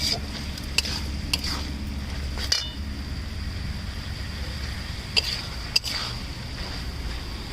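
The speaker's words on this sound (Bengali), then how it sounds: "দিয়ে দিচ্ছি ভেজে রাখা চিংড়ি মাছগুলো। নাড়িয়ে চাড়িয়ে এবার জল দিয়ে দেবো।" Fried prawns stirred in a pan with a ladle, giving occasional sharp clinks and scrapes over a steady low sizzle, close and fairly quiet.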